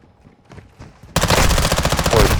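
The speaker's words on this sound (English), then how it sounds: "So they pretty much made the MPX the fastest gun in the game" MPX submachine gun from Call of Duty Modern Warfare II bursts into loud, rapid full-auto fire after a quiet second of faint footsteps, a dense continuous rattle of closely spaced shots.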